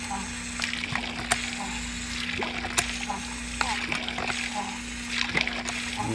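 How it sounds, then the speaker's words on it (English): A hand pump on a shallow well in a yard pulls up water with steady splashing and sloshing. Rhythmic creaks and clanks sound close by over a constant low hum, with no talk. "And pump it until all the sediment starts coming out of it."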